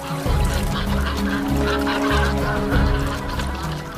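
Cormorants kept and cared for by fishermen give loud, continuous honking, goose-like calls, several birds overlapping close by with no talk.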